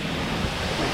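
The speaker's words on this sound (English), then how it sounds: "So powerful of a waterfall, it's blowing us away!" Roaring tall waterfall on a Palau hiking trail, a dense, loud, steady rush of falling water heard close up with wind buffeting the microphone.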